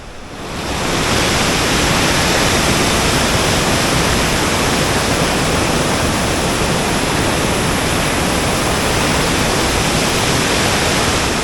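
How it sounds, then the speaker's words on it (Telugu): Nambi waterfalls roar loudly and continuously from nearby, a dense, full rushing wash of falling water that swells in within the first second and then holds steady, with no voices. "The Nambi water falls."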